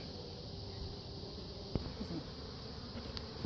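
Honey bees hum as a steady, faint buzz during a beehive inspection, with a single soft knock partway through.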